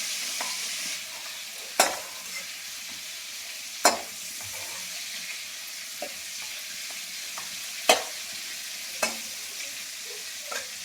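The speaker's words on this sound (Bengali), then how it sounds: "দেখেছেন আমার চিংড়ি মাছগুলো ভাজা হয়ে গেল" Prawns fry steadily in a pan with a continuous sizzle, broken by a few sharp clinks of a spatula stirring against the metal, with no talking.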